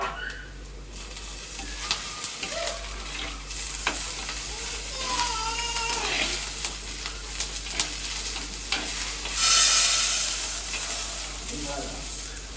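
Onions sautéing with curry leaves in a clay pot, a steady close sizzle with scraping stirs and a louder hiss burst near the end, with faint voices in the background.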